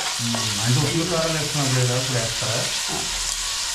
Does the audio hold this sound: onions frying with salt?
yes